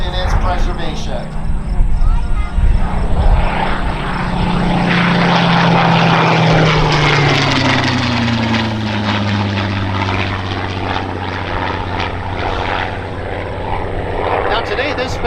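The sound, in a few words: Spitfire aircraft propeller engine flying at an airshow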